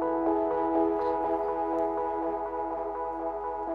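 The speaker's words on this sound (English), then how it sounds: "So with the delay, it sounds like this." Monophonic synth melody fed through a delay so repeating notes stack into chord-like harmonies, a steady rhythmic pulse of evenly spaced echoes sustaining at moderate level for a few seconds.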